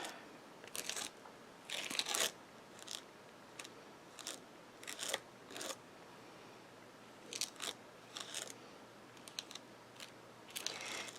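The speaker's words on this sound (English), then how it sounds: "So I'm just going to scrape this down." Ranger Astro Paste being scraped down with a tool, a series of short gritty scrapes and crunchy swipes in irregular bursts, close but fairly quiet, with no talking.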